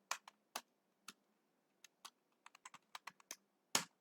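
Crisp, separate clicks of keys on a computer keyboard come at an irregular pace while HTML code is written, with a short quick burst near the end, close and quiet with no voice.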